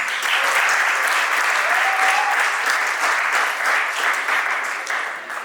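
Audience at a youth leadership camp closing ceremony applauds loudly and continuously, a thick wash of clapping that fades slightly toward the end, with faint voices beneath it.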